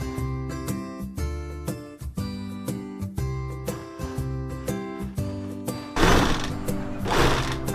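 Domestic sewing machine stitching a salwar, running in a fast, even mechanical chatter with short pauses and restarts, the motor whirring louder and rougher toward the end.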